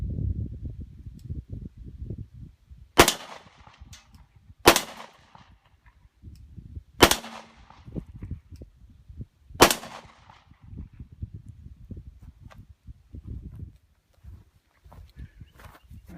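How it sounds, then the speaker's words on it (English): Four loud, sharp Glock pistol shots fired at a propane tank outdoors, spaced a few seconds apart, each a hard crack with a short tail, over low rustling and footstep-like shuffling noise. "then I'll shoot the tank again too."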